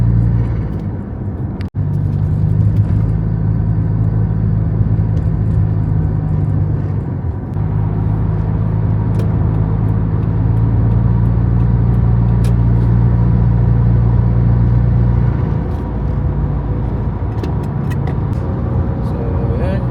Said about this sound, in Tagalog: Mag-drive muna tayo.